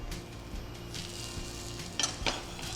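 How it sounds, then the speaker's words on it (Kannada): Wheat-flour halwa frying in sunflower oil in a pan, a soft steady sizzle with a couple of faint utensil clinks near the end, quiet and continuous with no talking. "ಈ ಕಡೆ ಫ್ರೈ ಆಗ್ತಾ ಇರಲಿ."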